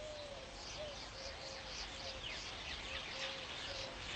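A weaver bird calls while building its nest, giving faint, repeated chirps and short whistled notes over a soft, steady background hiss, fairly distant and quiet.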